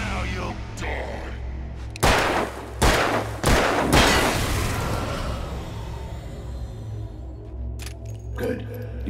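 Gunfire in the video game Alan Wake: three loud, heavy shots in quick succession, each with a long reverberant tail, over a low droning background and a few faint later clicks.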